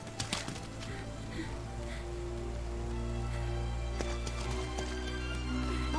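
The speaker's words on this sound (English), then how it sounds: "Oh, and it's raining here too." Steady rain falls in the forest of Zelda: Breath of the Wild, a constant hiss that stays at an even level, with a few light thuds and clops near the start.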